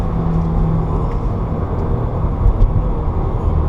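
A 2015 Subaru WRX with a manual gearbox roars loud and steady on the race track at Autobahn Country Club, its engine rumbling through the whole stretch.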